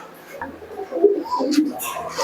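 Giribaj pigeons give low, close coos in short rising phrases, with a few light rustles and wing or cage noises in the background.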